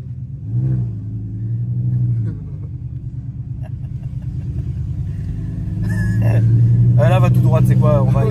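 A car engine rumbles loudly from inside the cabin as it is driven, its low drone rising twice with revs while people talk over it.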